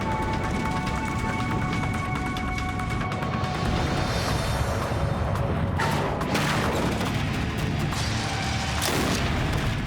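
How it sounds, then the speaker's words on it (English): Boeing 767 gliding in without engines for an emergency landing, its nose slamming onto the runway with a loud bang like a shotgun, followed by a dense, continuous roar of scraping and rumbling, with sharp crashes near the end. "The nose hit with quite a bang on the runway"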